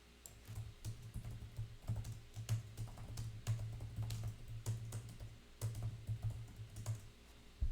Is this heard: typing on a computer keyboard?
yes